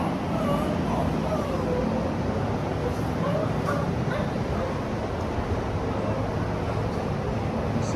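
Puppies and dogs in a Boykin kennel yip, bark and whimper in short scattered bursts over a steady background hum, with a person talking nearby.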